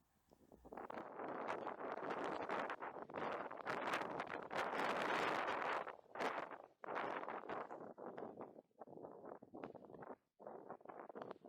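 Strong wind roars and buffets the microphone beside a canal fishing peg during a winter angling league match, loud and gusty throughout with brief lulls near the end.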